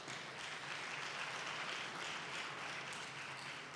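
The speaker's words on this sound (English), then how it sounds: "give yourselves a hand for being here today" A crowd applauds at a community gathering, a steady, even wash of clapping that stays moderately loud for the whole few seconds without voices.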